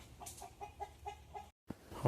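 A run of short, rhythmic clucks from chickens and a guinea fowl close by, followed by a brief silence and a sharp rustle.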